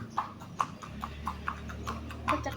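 Horse hoof clip-clop effect played during a podcast, a slow even series of hollow knocks, moderately loud against a low steady hum, with no talk.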